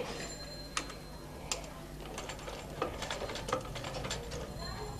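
A sewing machine stitches a hook loop on a blouse with soft ticking and clicking mechanism sounds, fairly faint and close, under light background noise.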